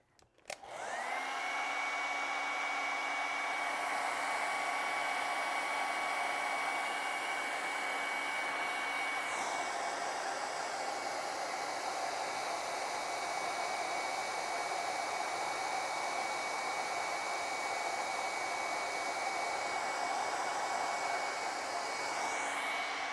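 A hair dryer runs steadily and loudly for the whole stretch, drying acrylic paint on a snowy Christmas tree canvas, with a brief shift in pitch midway and no talking.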